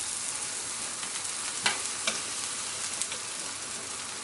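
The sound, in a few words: mushrooms frying and browning in a pan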